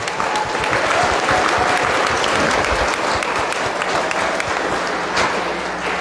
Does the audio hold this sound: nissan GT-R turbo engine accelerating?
no